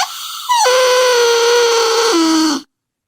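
A recorded Bigfoot shriek plays back as one loud, sustained, tonal wail that steps down in pitch partway through and then cuts off abruptly into silence.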